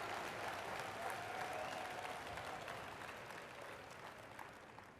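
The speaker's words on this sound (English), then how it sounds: "Let's give them a round of applause." Steady applause from an audience at an indoor business training event in Miami, dense and continuous, gradually fading toward the end with no talk over it.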